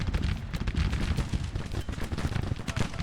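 Dense, continuous musket volleys crackle in a Civil War strategy battle, layered shots overlapping at mid distance with no clear gaps, a steady rolling fusillade.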